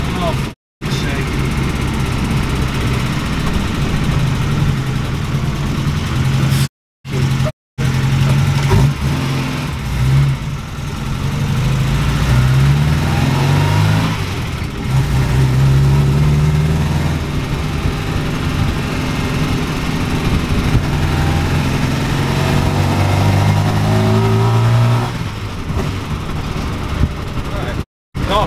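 A 1969 Ford Capri's engine runs on a test drive after valve clearance adjustments, a loud droning cabin engine sound with rising and falling revs through gear changes and a few brief cut-outs.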